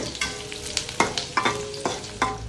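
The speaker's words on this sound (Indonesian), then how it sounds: "Di kompor sebelah saya siap-siap untuk menggoreng bumbu." Spice paste (bumbu) frying in a pan on a stove, with a steady sizzle broken by repeated scraping and stirring strokes roughly every half second, close by and with no talk.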